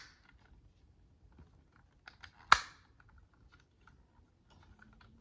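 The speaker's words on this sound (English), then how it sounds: "click these two tabs from the front roof section into place right here" Plastic tabs on the front roof section of a Transformers Legacy Motormaster toy snap into place with one sharp, close click amid faint scattered handling taps in a quiet room.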